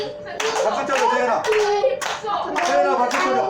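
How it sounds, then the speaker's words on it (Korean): A child named Seoyeon claps her hands at a Christmas celebration, irregular bursts of claps mixed in with voices and singing close by. "박수 쳐줘, 서연아."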